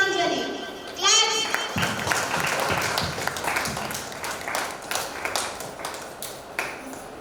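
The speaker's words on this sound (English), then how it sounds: "Claps." An audience at a dance studio awards ceremony claps in a steady patter that gradually thins out, moderately near, with a voice speaking briefly.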